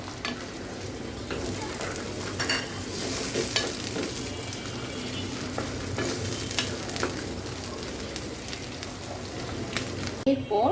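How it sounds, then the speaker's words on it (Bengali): Chicken mince sizzles and fries in a pan for Thai noodles with prawns, stirred with steady scraping throughout, a continuous moderate crackle with a voice faintly present. "দিয়ে দিচ্ছি চিকেন কিমা"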